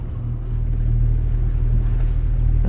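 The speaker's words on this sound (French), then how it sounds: "un bateau à moteur qui va très très vite" Steady low engine drone of a fast motorboat passing near a sailboat in a harbour, loud and continuous with a throbbing low rumble that swells slightly after the first half second.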